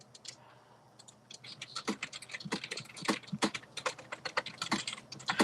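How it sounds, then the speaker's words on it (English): Rapid typing on a tactile computer keyboard, a dense run of crisp, close keystroke clicks in an irregular rhythm that grows busier and louder, heard alone without talk. "people were laughing at me for my typing"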